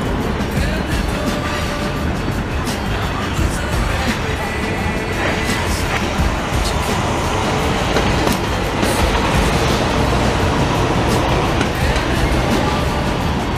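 A CN freight train rolls past loudly and close in St-Henri, Montreal, its steady clatter and rumble continuous, with occasional sharp clanks and brief wheel squeals.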